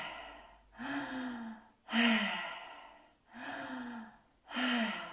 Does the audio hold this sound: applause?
no